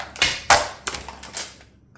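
A razor knife cuts through scrap material in several quick, close scraping strokes that fade out over about two seconds.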